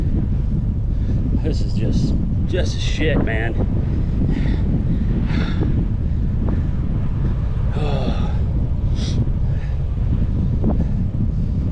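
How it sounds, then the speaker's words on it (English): Steady, heavy wind buffets the microphone in a continuous low roar during a bicycle ride across Iowa, with someone speaking briefly over it. "That's how windy it is out here."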